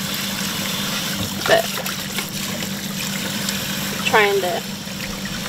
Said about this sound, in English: you just run them under water, they zip back up